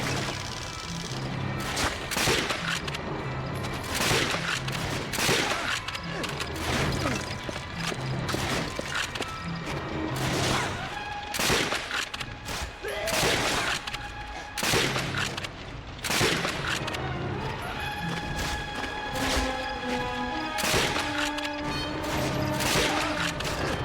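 Gunfire rattles through a Call of Duty: Finest Hour battle in the Western Africa campaign, with repeated sharp shots and bursts spread across the scene, some clustered in rapid volleys, alongside crashes and clattering game effects.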